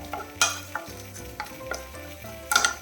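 Grated coconut frying in coconut oil as a spoon stirs it, with a soft steady sizzle broken by sharp scraping clinks against the pan at irregular intervals, close and without voices.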